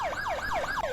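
An ambulance siren wails in a rapid, continuous up-and-down sweep, loud and close, during a video game roleplay traffic stop.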